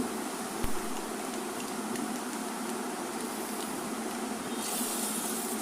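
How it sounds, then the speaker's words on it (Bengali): Mustard seeds splutter in hot oil for a sambar tempering, giving a steady, dense sizzling hiss with faint crackles and one brief pop early on. "এই যে সর্ষেটা কি সুন্দর ফুটছে"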